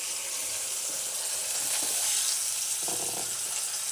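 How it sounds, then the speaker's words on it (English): Mushrooms fry in a pan with a steady, close sizzle and crackle for a few seconds, with a faint stir or scrape partway through and no voices. "I wasn't sure if you could cook them in a pan or not, so here I am trying."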